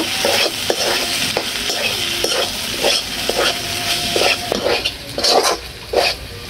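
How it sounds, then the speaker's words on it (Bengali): Fried macaroni with chopped coriander is stirred in a pan over a clay stove, a spoon scraping and clinking against the metal in quick repeated strokes over a soft, steady sizzle, close and alone. "ধনেপাতাটা আমি দিয়ে দিলাম, দিয়ে আমি নাড়া দিয়ে নেব।"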